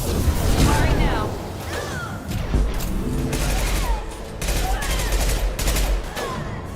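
Rapid gunfire from the video game Mass Effect 2, played on Insanity difficulty in the Legendary Edition, sounds as loud sustained bursts with booms, mixed with voices talking throughout.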